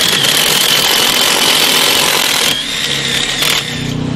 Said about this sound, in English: go ahead and drill through the hole that you already pre-drilled into the wood